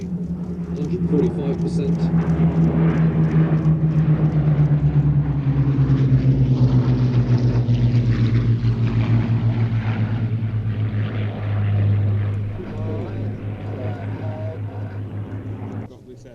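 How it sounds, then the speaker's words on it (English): A Hawker Hurricane propeller fighter comes in to touch down at an airshow, its engine droning steadily with a slowly falling pitch, loud and continuous, while a commentator talks over it. "as the Hurricane comes into touchdown"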